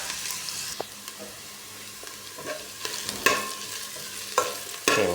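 Garlic sautéing in a pan with ginger and onion for octopus adobo, a steady close sizzle broken by a few sharp scraping stir strokes, with no talking.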